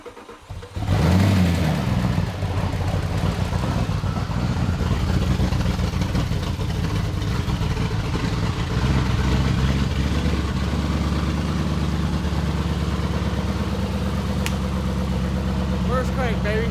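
A twin-turbo V8 in a Porsche Cayenne 957, swapped in to replace a hydro-locked engine, cranks briefly and catches at once. It then settles into a loud, steady rumbling idle that runs throughout, with people talking over it.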